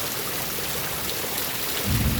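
Heavy rain falling at night, a dense continuous hiss of close downpour with a deeper rumble swelling near the end, no voices.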